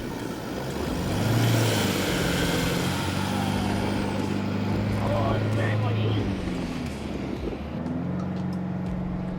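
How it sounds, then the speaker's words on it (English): A 4WD in low range revving as it tries to drive forward through soft, boggy sand: a steady, loud engine drone with shifting pitch heard from nearby, with talk mixed in. "I'm gonna try and drive forward"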